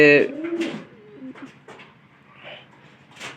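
Restless pigeons by their loft give short, close coos at the start, followed by softer, fainter murmuring and rustling.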